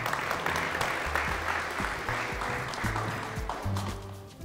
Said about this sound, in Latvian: liels prieks sagaidīt ar aplausiem Kasparu Garhardu, rīcību politikas nama tēvu